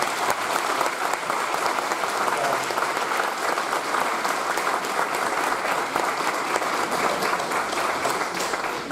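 Steady, loud audience applause, many hands clapping at once in a dense, even patter that continues without a break.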